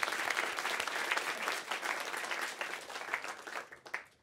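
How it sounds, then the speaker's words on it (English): A crowd at a polio eradication storytelling event gives a brief burst of applause, dense and lively for a few seconds, then trailing off in scattered claps. "Round of applause for them"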